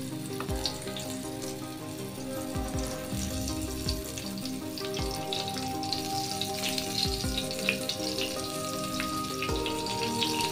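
Prawns deep frying in hot oil, a dense continuous close sizzle with occasional low knocks of a utensil against the pan, no talking.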